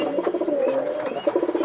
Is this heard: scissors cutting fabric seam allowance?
no